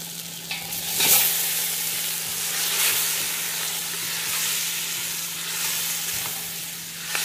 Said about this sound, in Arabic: واستمر بالتقليب